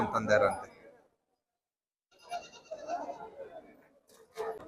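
Sheep bleat at a busy weekly livestock market in Kudligi. The cries come in short bursts between pauses, with people talking nearby.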